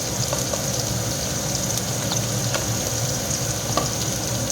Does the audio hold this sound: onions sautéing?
yes